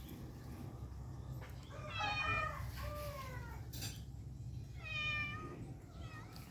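A hungry pet cat meows twice, each a drawn-out call a few seconds apart, fairly close over a low steady background hum.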